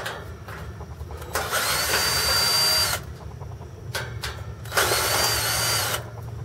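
Cordless power drill with a 5/16 bit removing fans from an air conditioner, two loud whirring bursts of about a second and a half each, separated by quieter pauses with a low hum underneath.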